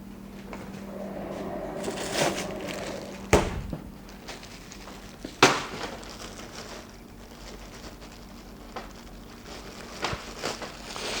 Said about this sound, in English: And you just lightly put the ice over top of the fish so it's nice and evenly covered.